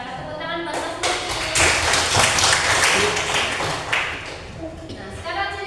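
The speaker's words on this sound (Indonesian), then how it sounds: "Tepuk tangan buat Mas Luki." Students in a sociology classroom applaud a classmate, a short burst of fairly close clapping swelling in the middle then tapering off, with voices talking around it.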